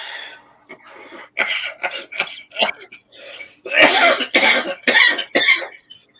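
A run of harsh, close coughs and throat-clearing bursts, irregular and loud, grows heavier toward the end, with no speech between them.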